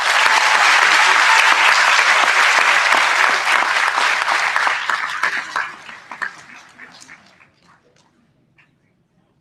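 Steady, dense applause from a graduation ceremony audience at an eighth grade promotion, loud and sustained before thinning into scattered claps and fading to silence.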